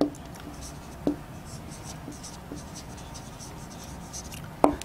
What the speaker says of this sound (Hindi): इसका आंसर लिखेंगे हम